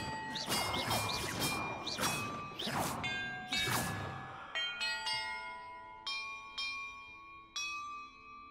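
Small bells rung in sequence within the Hogwarts Legacy video game, clear tinkling strikes: a quick run of bright rings with whooshes, then slower single chimes that ring on and fade.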